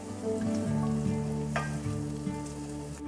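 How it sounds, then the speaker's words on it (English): Garlic and onions sauté in oil, giving a soft, steady sizzle heard up close at low volume. Background music plays under it, and a brief brighter crackle rises midway. "Sauté for a couple of minutes."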